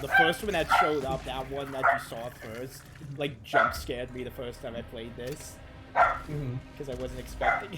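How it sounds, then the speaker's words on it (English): A pet dog barks and yips repeatedly in the background of a gaming session, sharp bursts coming in clusters under close conversational talk. "Sorry about my dog."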